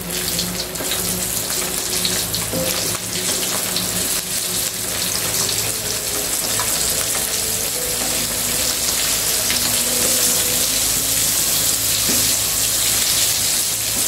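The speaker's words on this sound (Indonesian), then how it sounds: "Goreng ikannya dibalik." Flour-coated fish deep-frying in hot oil, with a steady, loud sizzle and crackle that runs continuously and alone, with no talking.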